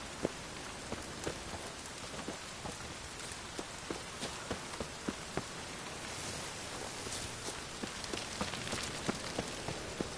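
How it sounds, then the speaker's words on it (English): Steady rain falling in The Witcher 3, a dense constant hiss with scattered close drips and taps pattering on surfaces throughout, no voices. "It's raining again."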